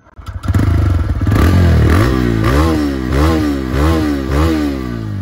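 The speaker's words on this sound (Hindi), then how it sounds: "अभी हम सुनाते हैं आपको बाइक का कुछ साउंड" A TVS Raider 125cc motorcycle engine starts up and revs repeatedly, loud and close, each throttle blip rising and falling in a rhythmic series.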